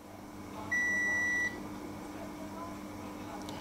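A smartphone multimeter gives a single sustained electronic continuity-test beep lasting under a second, bright and clear over a low background hum.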